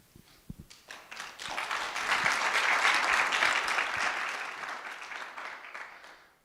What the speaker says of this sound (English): You guys deserve more of an applause than you know.